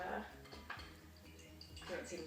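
Metal spoon stirring kefir grains around in a metal sieve, giving soft scraping and clinking at close range in irregular bursts over a steady low hum, with faint speech in the background.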